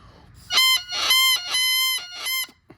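A bagpipe chanter reed blown hard gives a loud, reedy honking drone in several sustained bursts, buzzy and nasal like a duck call, with brief gaps between breaths.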